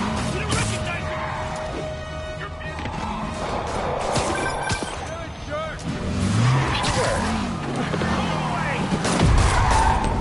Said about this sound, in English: Yep, that's a high-speed car chase